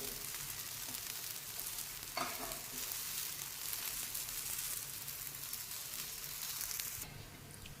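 Aloo paratha frying on its second side in a pan, giving a continuous soft sizzle with light crackle and occasional scraping, fairly quiet and steady, no voices.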